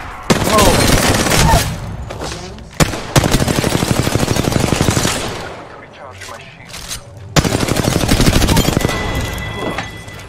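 Heavy automatic gunfire in the battle royale shooter Apex Legends, rapid loud bursts of close-range shots in long sustained strings, broken by brief pauses and a few sharper booms.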